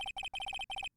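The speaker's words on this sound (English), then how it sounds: "I heard a phone ring just now." A cellphone ringtone in the Phoenix Wright: Ace Attorney game chirps in quick electronic bursts, several short rapid pulses grouped into four rings, loud and clean with no talk.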